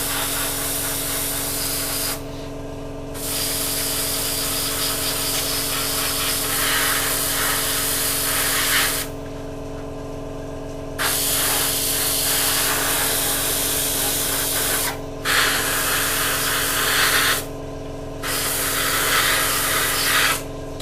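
An airbrush or spray can hisses steadily over the seams of a Hasegawa 1/48 Draken plastic model kit, a close continuous spray broken by a few short pauses.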